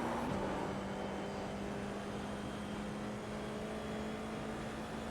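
An F4 race car in the iRacing simulator runs at full throttle around Summit Point. A steady, dense engine drone keeps up a sustained whine with a constant pitch and no breaks.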